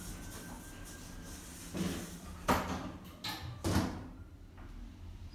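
A Southampton lift's doors rumble and knock as they close, several soft thumps over a low background hum.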